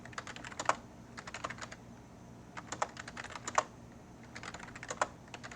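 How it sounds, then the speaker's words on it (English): Fingers type a name repeatedly on a computer keyboard, bursts of quick light key clicks separated by short pauses, close and steady without any talking. "I'm just going to type my name a few times"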